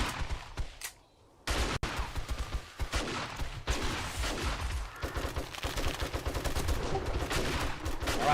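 Bursts of rapid gunfire in the survival game 7 Days to Die, loud and close, with repeated volleys after a brief pause and a continuous clatter of shots.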